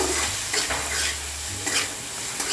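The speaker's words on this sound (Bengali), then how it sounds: "মশলাটাকে আর একটু কষিয়ে নেব।" Spice paste with chopped tomato fries in a pan for a bhetki fish and cauliflower curry, a steady close sizzle broken by scraping stirs, with no voices.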